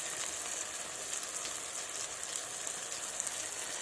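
A fish head with salt, turmeric and spices fries in a pan, producing a quiet, steady sizzle with fine crackle, fairly faint and uninterrupted.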